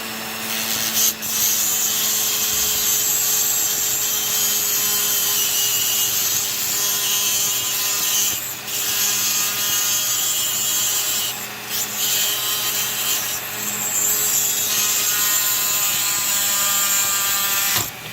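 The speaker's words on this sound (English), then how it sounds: "The nice thing about flex shaft is it can get in close." A flex shaft rotary tool grinds on old brass flex track, a loud continuous buzzing whine with steady tonal hum, briefly dipping a few times as the bit shifts, with no voices.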